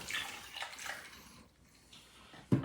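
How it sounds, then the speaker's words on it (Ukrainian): Water poured into a pot holding a beef tongue in a home kitchen, a soft splashing and trickling that ebbs and swells, fairly quiet, ending with a small knock. "Ну і тепер додаємо воду і ставимо на вогонь варитися."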